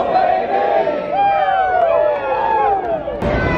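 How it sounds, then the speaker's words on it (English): A large crowd at a Bristol NASCAR night race, a dense babble of many voices and shouts, loud and close throughout. "big crowd of people over here"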